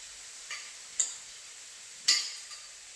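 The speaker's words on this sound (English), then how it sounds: "So we're just frying it to finish it off now." Burrito filling with spooned-in rice frying in a pan, a soft steady sizzle broken by a few sharp clinks of a utensil stirring against the pan.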